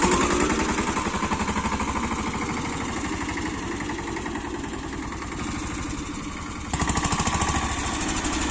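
A Captain tractor engine runs on a test drive with a steady, close, chugging throb that holds throughout, then picks up slightly in intensity near the end. No one speaks.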